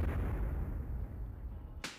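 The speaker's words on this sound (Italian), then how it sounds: "Attenzione al botto!" A single sharp firecracker bang at the Festa del Maio street celebration in Baiano, a sudden broadband crack near the end following a dense rumbling wash of festival crowd noise and earlier blasts.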